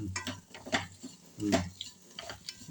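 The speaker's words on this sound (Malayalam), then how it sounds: "ചേർത്തത് നല്ലപോലെ എല്ലാം മിക്സ് ചെയ്ത് നല്ലപോലെ മിക്സ് ചെയ്ത് ഇളക്കി കൊടുക്കാം" Potato stir-fry being stirred and tossed in a pan, with a few scraping, clattering stirs spaced across the moment over a faint sizzle, close and moderately loud, no talking.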